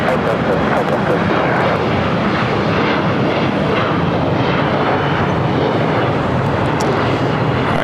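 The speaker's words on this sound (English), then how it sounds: "The Lufthansa A380 heading to the north side, not unexpected." Lufthansa Airbus A380 jet at LAX airport, a loud, steady, broadband engine roar filling the whole stretch without a break, heard near and alone with no talk.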